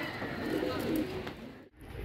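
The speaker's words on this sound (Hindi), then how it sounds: "ये उस्ताद आसिफ, शेख आसिफ भाई के साधना कबूतर हैं।" Soft, low cooing from Dubai Taddy pigeons continues throughout, close by, with a rounded, throaty burble and no talking.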